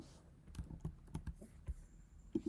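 Typing on a computer keyboard while entering an email address into Postman, a short run of close, quiet keystrokes with uneven rhythm and no speech.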